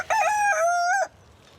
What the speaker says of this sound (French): Qu'est-ce qu'on reproche aux coqs? Eh ben, qui font du bruit.